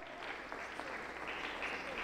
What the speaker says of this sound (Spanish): Aplauso para Cristo Jesús.